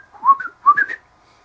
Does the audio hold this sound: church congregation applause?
no